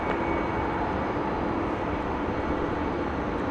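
An American Airlines jet passing directly overhead at Los Angeles International Airport, a loud, steady broadband engine roar that fills the whole moment without fading.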